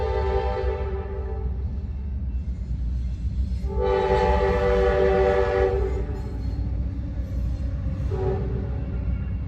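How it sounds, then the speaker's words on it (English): A train passes nearby with a steady low rumble of wheels on track and a sustained multi-tone horn sounding twice, loud and continuous with no talk. "Here's another train."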